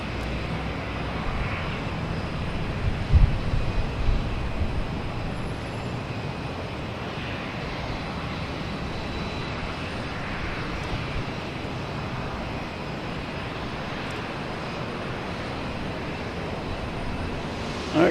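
A Delta Embraer E170 jet taxiing at Boston Logan airport gives off a steady, moderately distant engine roar that holds evenly throughout with no voices.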